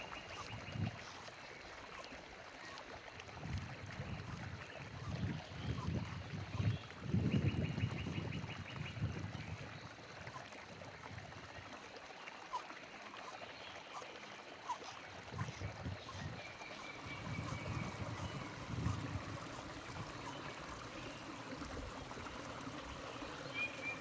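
A mountain stream in the San Pedro Parks Wilderness flows and trickles softly and continuously, faint and close by, with occasional louder splashes and burbles rising and falling.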